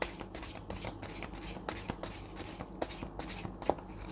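Tarot cards are shuffled close up in a steady run of soft riffling and flicking, quiet and continuous with light rhythmic slaps, and no talking.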